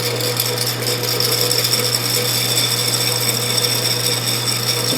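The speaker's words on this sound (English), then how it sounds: "It's important to keep the slitting saw well lubricated." A slitting saw on a machine cutting a 40-thousandths slot in a two spool valve engine block, a steady whirring tonal drone with constant metallic hum, loud and unbroken throughout, no talking.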